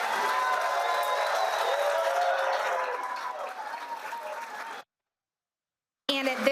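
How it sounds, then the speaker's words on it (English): Applause for award winners at an elementary school governing board meeting, a crowd clapping with some cheering that gradually thins, then drops to silence before a voice briefly speaks. "Let's give them another round of applause."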